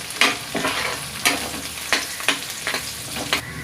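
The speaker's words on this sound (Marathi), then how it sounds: "माझा कांदा आता थोडा भाजत आला आहे।" Onion fries with cumin in oil, a steady sizzle broken by repeated scraping stirs of a spoon against the pan, close and moderately loud.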